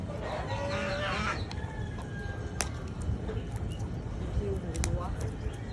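Ducks and geese kept as farm animals, honking and clucking calls with a crow-like cry over steady background noise, fairly close, with talk mixed in.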